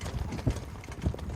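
Horses in harness training trot past, their hooves clip-clopping in a quick, loud, close rhythm for a little over a second.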